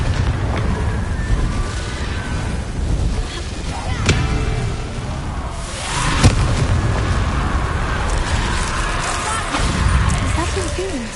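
Bombarda blasting spell from the video game Hogwarts Legacy goes off in a couple of sharp booms over rumbling, windy game ambience, with voices talking through it.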